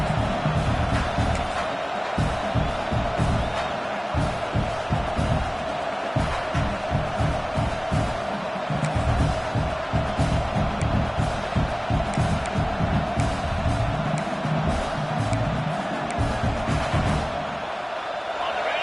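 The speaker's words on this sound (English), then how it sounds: "This crowd even louder now on second down as they try to hold on." A loud college football video game stadium crowd roars continuously, with swelling cheers and commentary-style talk running over the din.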